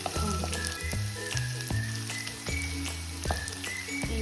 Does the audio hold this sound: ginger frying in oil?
yes